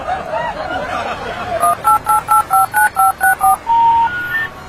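A run of telephone keypad dialing tones, about ten evenly spaced touch-tone beeps followed by a longer tone, clear and close with a faint background bed.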